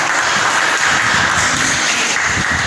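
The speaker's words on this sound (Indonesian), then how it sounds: "Tepuk tangan buat kita." Schoolchildren in a classroom clap their hands together in a loud, dense, continuous burst of applause that stays close and even throughout.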